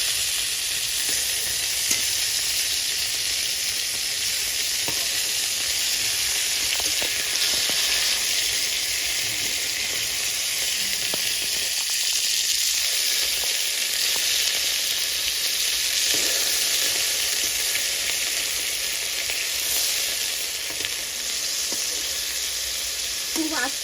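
Hilsa fish wrapped in gourd leaves frying in a pan, a loud continuous oily sizzle and hiss close by throughout, with faint scraping and occasional spatter.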